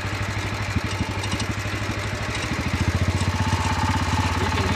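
A Wheel Horse C-81 garden tractor engine chugs in a steady rhythm, then is throttled up so its putt-putt firing quickens and grows louder. The engine is close and runs alone, with no talk.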